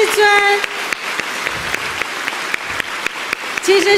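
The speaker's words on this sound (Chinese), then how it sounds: "大家再掌声热烈感谢师尊。" An audience claps in thanks to a spiritual master at a Buddhist teaching gathering in Malaysia, a steady patter of applause with a voice speaking briefly at the start and end.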